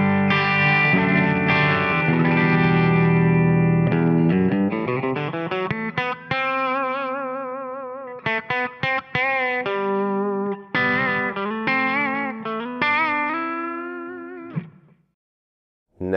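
An electric guitar picked with a metal pick from MB Picks, run through distortion and chorus effects, plays sustained notes, then bends and quick runs with short gaps, loud and solo before stopping abruptly near the end.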